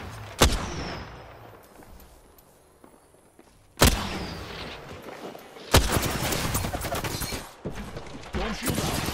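Gunfire in Apex Legends, sharp loud shots and bursts breaking in at intervals between quieter stretches, then denser fire toward the end, with game callouts heard faintly.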